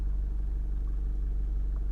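A Honda CR-V 2.2 i-DTEC diesel engine idles steadily with a low, even hum and faint rhythmic pulsing, with no talk over it.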